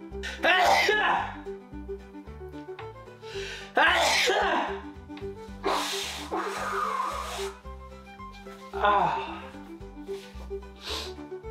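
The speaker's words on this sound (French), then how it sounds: "fallait que j'éternue à un moment ou à un autre" Several sharp sneezes burst out at intervals over steady background music, each loud and close, with breathy onsets and quick decays.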